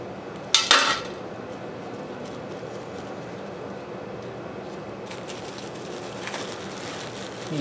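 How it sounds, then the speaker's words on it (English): Metal nuts and bolts from a 1930 Briggs FH engine restoration clatter into a metal pan in one sharp, jangling burst, then faint workshop handling and a soft clink later. "These nuts and bolts, we'll take these and throw them in our other pan there."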